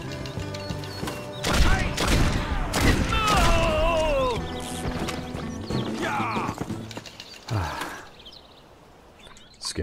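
Gunfire in the Red Dead Revolver video game cracks out in loud, scattered bursts amid clattering crashes and other game effects, with some voices between the shots.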